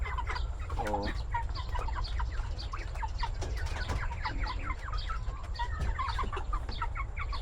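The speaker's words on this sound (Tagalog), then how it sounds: "O ayan yung mga manok natin mga kapengyo, pagkadami nila." Chickens clucking and calling all over a backyard flock, many birds close by with steady overlapping clucks, one short word spoken briefly at the start.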